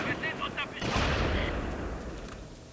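Gunfire in the World War II strategy game Close Combat: Invasion Normandy, a burst of heavy shots and booms rolling out over about two seconds at moderate loudness, with battle noise around it.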